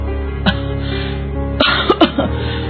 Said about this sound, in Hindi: देखा कि उसकी माँ लगातार खांसे जा रही है।